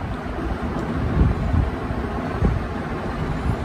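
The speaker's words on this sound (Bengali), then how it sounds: "বাহ, কি দারুণ বাতাস!" Steady wind blowing on a home balcony, a soft continuous rushing with low gusty rumble and slight microphone buffeting, no voices.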